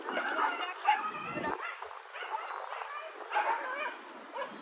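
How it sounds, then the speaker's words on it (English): Several dogs yip and whimper outdoors near someone doing shovel duty, close and fairly quiet, a busy cluster of excited canine noises running without pause. "all the dogs run over there"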